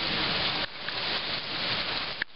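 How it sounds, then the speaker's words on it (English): Heavy rain pours off a roof in a steady, dense hiss that rises and falls slightly, with an occasional sharper drip-like tap close by. "It's raining today."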